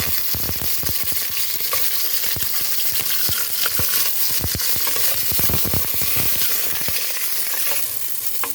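Chicken frying in a few ladles of oil in a home kitchen, a loud steady sizzle and crackle with sharp pops throughout, no voices.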